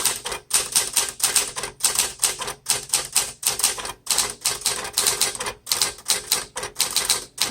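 A 1970 Smith Corona Classic 12 manual typewriter clacks away in quick, uneven bursts of keystrokes with brief pauses between, close and crisp, with no voices.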